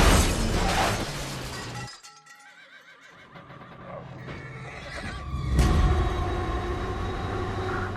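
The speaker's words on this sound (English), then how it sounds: "There's a train coming." A train rumbles loudly, fades for a moment, then surges back with a roaring rush and squeal of wheels, heavy and close.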